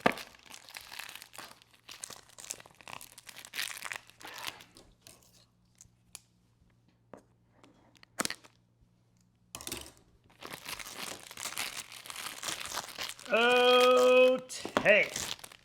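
Plastic packaging crinkles and crackles during a fragrance unboxing, in scattered bursts between quiet stretches, with a person speaking at times.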